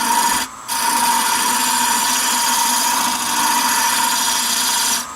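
A wood lathe tapers a wooden napkin ring with a round nose tool, giving a steady, loud, continuous scraping hiss with a constant high whine, briefly dipping once near the start and otherwise unbroken.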